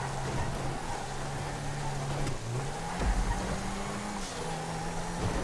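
A car engine racing on a track in GTA V, a faint steady engine drone with pitch shifts as it changes gear around two and three seconds, no talk.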